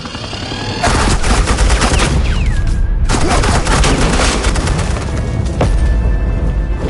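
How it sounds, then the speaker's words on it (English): Heavy suppressing gunfire in a Batman video game on PS4, loud sustained automatic bursts with a short break in the middle, then more firing. "Suppressing fire."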